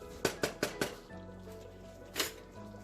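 Peanut butter soup being stirred in a pot, with four quick scraping strokes of a spoon against the pot followed by a low hum and one more scrape near the end.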